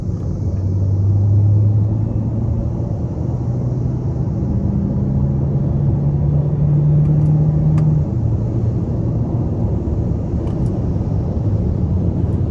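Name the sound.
Hyundai Sonata Hybrid 2.0 accelerating hard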